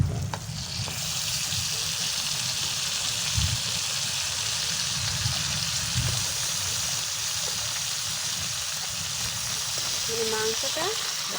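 Beef pre-cooked with salt, turmeric, ginger and garlic frying in spiced oil in a pan for a bhuna, giving a steady broadband sizzle throughout with occasional stirring knocks, close and moderately loud.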